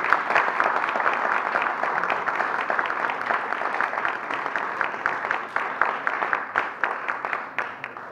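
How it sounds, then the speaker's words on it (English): An audience at a Jewish American Heritage Month event at the US Capitol gives a sustained round of applause, thick and even, with individual claps standing out more sharply as it thins toward the end. "So I want to give them a round of applause."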